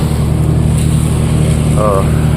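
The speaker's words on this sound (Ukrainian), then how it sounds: "бо дуже шумний цей трактор. Листочки збирає" A loud, steady tractor engine collecting leaves drones close by with a constant low hum, continuous throughout with no pauses.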